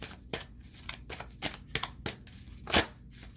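Tarot cards being shuffled in the hands, a run of soft, quick riffling bursts at irregular intervals, fairly close but quiet, with one louder flurry near the end.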